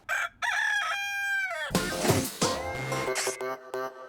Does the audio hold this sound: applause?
no